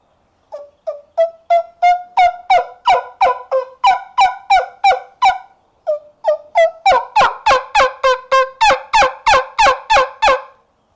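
A series of loud, close turkey yelps from a wingbone suction call in rapid rhythmic runs, two bursts separated by a brief pause, mimicking a hen's call.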